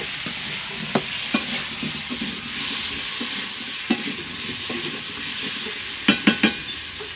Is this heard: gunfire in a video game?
no